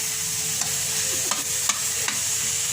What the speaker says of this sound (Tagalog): Okay, halo-haloin lang natin. Igisa muna natin.